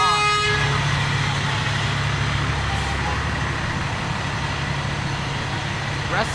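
A rescue truck sounds its horn in a Memorial Day parade, a loud toot at the start followed by rumbling engine and crowd noise, with another short honk near the end.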